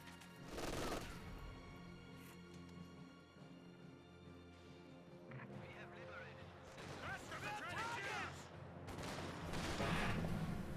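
MG42 machine gun fire and other battle sounds in the Company of Heroes 2 video game, with bursts of gunfire, crashes and explosions, quiet in the mix and heard under a commentator's voice.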